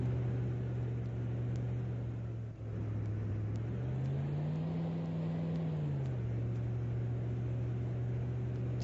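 A spawn truck drives across the map in a competitive video game match, its engine a steady low drone that climbs in pitch midway, holds, then settles back down, with no voices over it.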